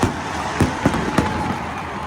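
Fireworks go off at an American sporting event: several sharp bangs at roughly even intervals over a steady crowd roar from a large stadium.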